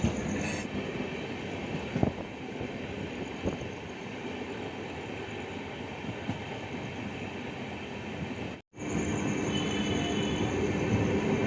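A train with LHB coaches running at speed, recorded from inside the coach: a continuous loud rumble of wheels and rails with faint rhythmic clicks, a brief dropout near the end, then the rumble resumes.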